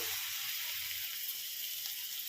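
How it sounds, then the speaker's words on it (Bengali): Garlic sizzles in hot melted butter for a butter garlic prawn dish, a steady, close hiss of frying that holds even throughout with no voices. "একটু রসুন দিয়ে দেবো"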